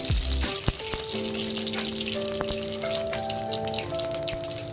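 Mustard seeds and cumin spluttering in hot oil, a dense close crackle and sizzle of rapid pops lasting a few seconds.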